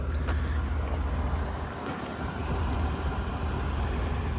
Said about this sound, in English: I'm gonna go ahead and fire the loader up so it's warm